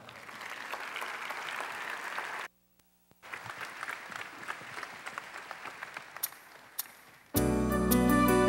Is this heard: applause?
yes